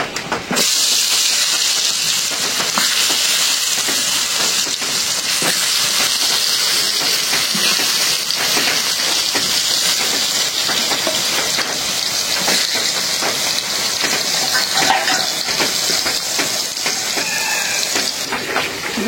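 Food frying in hot oil over low heat, a steady loud hiss and sizzle that runs unbroken and close throughout.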